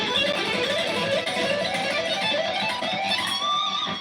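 Electric guitar lick with every note picked, a fast run of distinct, loud plucked notes in a steady stream, played alone.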